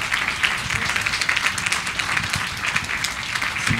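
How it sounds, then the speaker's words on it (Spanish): Brief, dense audience applause for a speaker at a university talk on copyright in design, steady and fairly loud without speech. "Creo que un aplauso para nuestra ponente"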